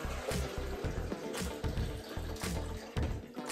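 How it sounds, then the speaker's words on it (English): Water is poured for making coffee in a Costco coffee maker at home, a close, steady splashing trickle that runs continuously for a few seconds with no talking. "So I'm gonna pour my water"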